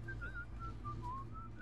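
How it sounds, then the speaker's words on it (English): Someone whistles a short wandering tune of several brief notes over a low hum in the video game BioShock, faint and nearby. "Stop whistling!"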